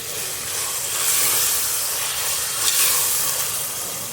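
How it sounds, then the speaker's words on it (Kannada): Food for kushka rice sizzles and fries in a hot pan, a steady, dense hiss that swells slightly midway, close and continuous with no talking. "ಇದು ಸ್ವಲ್ಪ ಚೆನ್ನಾಗಿ ಫ್ರೈ ಆಗಬೇಕು."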